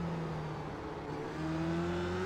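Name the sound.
race car engine flat out at Magny-Cours in a racing video game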